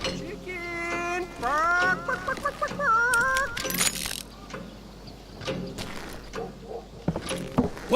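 Chicken in the Western shooter game Call of Juarez Gunslinger, clucking and squawking loudly for a few seconds before fading into clattering game sounds and scattered noises.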